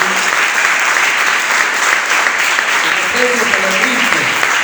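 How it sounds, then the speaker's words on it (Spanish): A church congregation applauds the Lord in a loud, sustained burst of clapping, dense and even throughout, with voices rising faintly beneath the claps. "Denle un aplauso al Señor"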